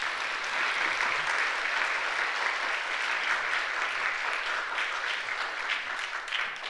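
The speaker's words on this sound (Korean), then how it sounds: "우리 여자분들만 위해서 다시 한번 박수 한번 드릴까요?" A church congregation claps together after a service, a steady wash of applause lasting the whole stretch and slowly tapering near the end, with no one speaking.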